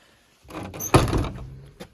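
A large wooden door on a covered firewood shack with a lock on the outside, heard swinging and shutting with a solid thunk, followed by a few short rattles and a final knock nearby.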